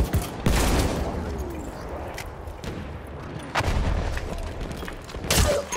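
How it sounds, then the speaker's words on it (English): Artillery fire in a Battlefield 1 battle, heavy booms landing a few times over a continuous rumbling wartime din, with distant gunfire in the background. "Artillery."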